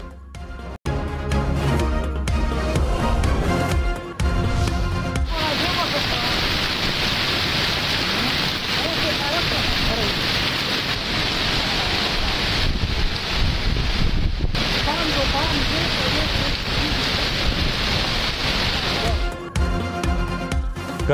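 Steady rain falls hard in a cold-weather downpour, a dense continuous hiss mixed with wind buffeting the microphone, loud and unbroken for most of the stretch.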